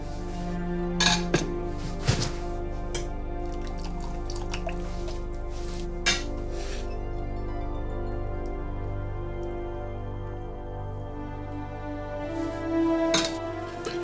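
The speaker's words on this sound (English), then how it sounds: "just gonna sieve all the vegetables off, the spices" Veal sauce strained through a sieve, with vegetables and spices held back: steady liquid dripping and trickling, scattered metallic clinks of a pot and utensil, and no talking.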